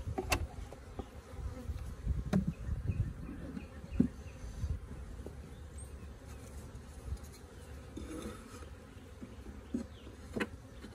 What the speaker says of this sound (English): Get some of these bees out of the back of here.